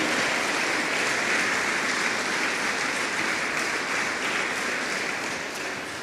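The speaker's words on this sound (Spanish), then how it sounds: "Démosle palmas al Señor" A church congregation claps in praise during worship, a dense, continuous wash of applause that stays loud throughout and eases slightly near the end.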